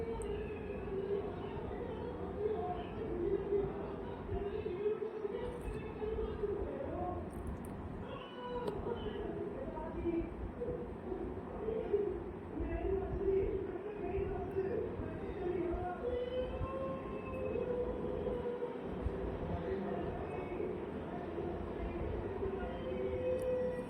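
An embroidery machine stitching a tilla work design, a continuous dense mechanical whirring and rattling that holds steady for the full stretch, with occasional brief dips and faint talk in the background.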